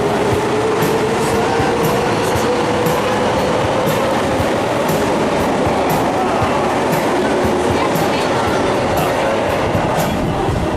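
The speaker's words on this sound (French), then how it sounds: "On va être bien dans le métro." A metro train rumbles loudly along the tracks, with a constant roar, rhythmic wheel clatter and a faint rising whine from the motors.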